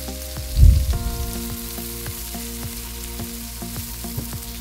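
Onion sautéing in melted margarine in a pan, with a brief burst of clattering and stirring at the start that settles into a soft, steady sizzle with light crackles, close and without speech.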